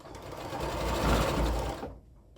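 A sewing machine stitches a checkered border onto a jelly roll quilt in one close, loud, continuous whirring burst that swells and then stops abruptly, leaving near silence.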